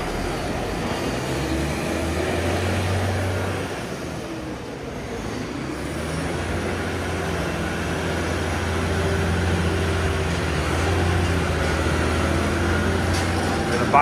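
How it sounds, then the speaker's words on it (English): A vehicle engine revving in a farm field: a deep, steady mechanical rumble that dips briefly and then swells louder and holds, heard close up. "Give it some rev, Morgan."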